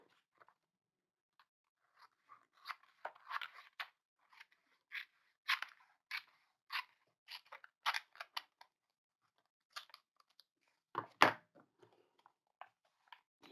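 Scissors snip paper for a collage journal, sounding as scattered short dry cuts and crisp clicks against near silence, irregular and close, with a sharper snip near the end.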